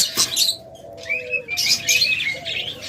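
A pair of rainbow budgerigars chirps in short, bright bursts with warbling calls, close by and fairly loud, with brief pauses between the phrases.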